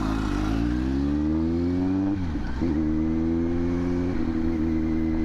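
A motorcycle engine drones close and loud on a ride to Tagaytay, holding a steady pitch, dropping briefly as the rider shifts gear, then climbing again.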